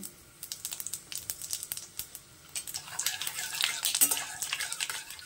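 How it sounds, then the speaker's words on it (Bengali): Panch phoron spice seeds spluttering in hot mustard oil, rapid crackling pops and a rising sizzle close by, with a brief clink of a utensil against the pan. "দিয়ে দিলাম সর্ষের তেল, দিয়ে দিচ্ছি 5 ফোড়ন"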